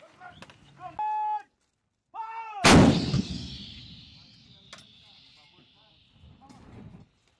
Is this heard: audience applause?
no